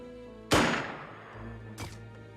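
A single sharp gunshot from the Xenonauts video game cracks loudly and fades into a decaying tail, with a softer second report or impact following a second later.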